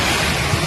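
Loud, dense roar of typhoon wind mixed with rushing, churning water in Cagayan Valley, Philippines, continuous and buffeting the microphone throughout the short moment.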